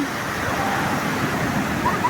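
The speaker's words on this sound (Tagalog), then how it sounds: "ang balod mabalod ang dagat" Sea waves washing on the shore form a steady, close rush of broadband surf noise with little variation, no talk.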